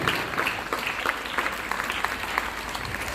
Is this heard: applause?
yes